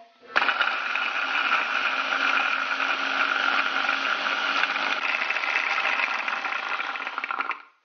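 A kitchen blender grinds satay spice paste, switching on abruptly into a loud, steady whirring buzz that holds evenly for about seven seconds before cutting off.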